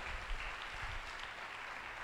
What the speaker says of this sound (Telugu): కొట్టు చప్పట్లు ఒకసారి.